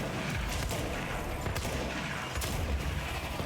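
Shotgun blasts fire in rapid succession during combat in the video game Control, loud sharp bursts layered over a dense, noisy din with no pauses between shots.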